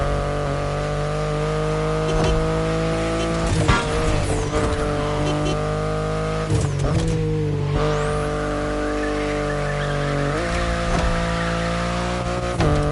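A BMW i8 driven in The Crew Motorfest, a steady humming electric-hybrid engine drone with shifting pitch and brief tire squeals, close and continuous throughout.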